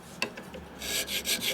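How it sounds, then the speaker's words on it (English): A carbide scraper rasps across a 45ci WL Servi-Car motorcycle cylinder in a quick single scrape, then several rhythmic close rubbing strokes, fairly quiet with no speech. "We'll get our fancy scraper up here."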